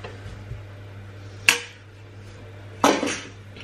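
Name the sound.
mixing butter into cookie mixture in bowl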